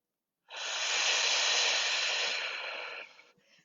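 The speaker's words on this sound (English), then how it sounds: "Take another nourishing breath in and out." One deep breath in and out during a core workout, a close, strong airy hiss held steadily for about two and a half seconds before trailing off with a few soft breathy traces.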